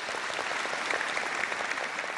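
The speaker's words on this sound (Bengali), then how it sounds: "জোরে হাততালি" A television quiz show audience breaks into loud, dense applause, many hands clapping together in a sustained burst that fills the whole moment.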